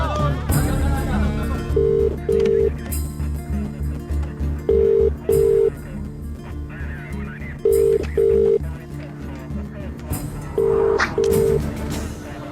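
Telephone keypad tones beep in short pairs as a number is dialed, repeating several times at a steady pace, with some background voices and noise between them.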